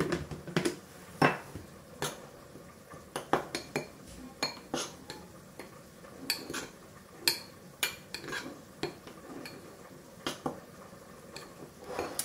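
A spoon mixes flour and semolina in a bowl, giving a long series of quiet, irregular clinks and scrapes against the bowl over a soft background, with no voices.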